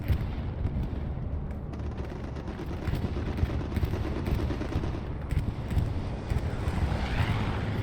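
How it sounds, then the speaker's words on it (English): Continuous, heavy low rumbling from a video game aircraft bombing run during a competitive match on the Utah Beach map, with dense overlapping blasts and crackling like gunfire, steady and loud throughout with no talking. "A great Syndicate bombing run."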